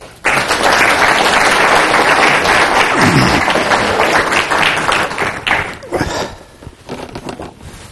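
Audience applause fills a Canadian meeting hall, a loud, dense wash of clapping welcoming a speaker to the stage; it swells at once, holds steady for several seconds, then thins into scattered claps and tails off.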